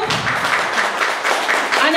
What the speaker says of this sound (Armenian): ծափահարենք այս առիթով